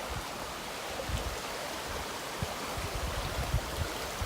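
Cove Creek in Pisgah National Forest, North Carolina, flowing steadily near a campsite: a broad, continuous wash of rushing water with low burbling pulses, close and unbroken, no voices.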